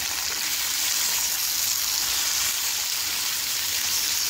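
Sliced onions sizzle in three spoons of hot cooking oil in a kadai over a high flame, a steady dense hiss of frying that holds evenly and close throughout with no voices.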